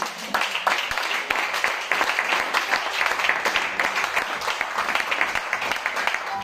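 A church congregation applauding in praise, a continuous roomful of clapping that stays dense and steady for several seconds without a break.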